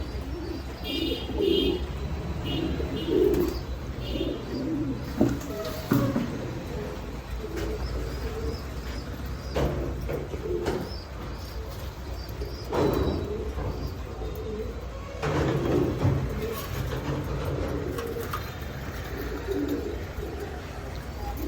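Fancy pigeons, Red Lahori and Danish birds, coo repeatedly in soft, low, rhythmic bursts close by, several birds overlapping amid light chirps and faint background noise.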